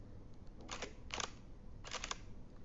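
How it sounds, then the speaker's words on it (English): A Nikon D5600 DSLR fires twice with flash, each one a crisp mechanical shutter click-clack, heard close and quiet against a faint room hush. "let us take this bottle as a test subject and we'll fire a flash"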